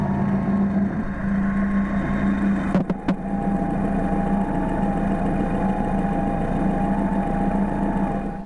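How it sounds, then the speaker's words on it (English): Porsche 944 engine running steadily with a failing water pump, a constant whine riding over the low idle drone, loud and close, with a couple of brief knocks near the middle. "the whining sound was most amplified when touching the water pump housing"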